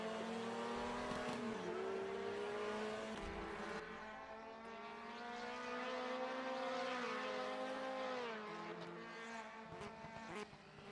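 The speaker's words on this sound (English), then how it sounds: "Downshifting into the first turn" 1970s Formula 3 race cars at the Paul Ricard circuit in France scream past in a continuous loud engine roar, pitch sliding down as they downshift into the first turn, then rising again as they accelerate.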